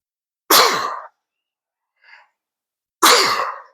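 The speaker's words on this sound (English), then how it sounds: "I'm fixing to sneeze." A person sneezes twice, a sharp, loud burst followed by a brief faint sniff, then another forceful sneeze about two and a half seconds later, each alone in quiet surroundings.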